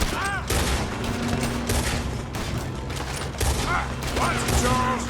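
Dense gunfire in the video game Red Dead Redemption 2, a loud continuous fusillade of overlapping shots with ricochet-like whines, game voices shouting intermittently over the battle.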